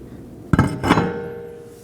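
A single hammer blow seats a part on the front suspension of a 2020 Toyota Corolla during a ball joint replacement, a sharp metallic knock followed by a short ringing thud and decay.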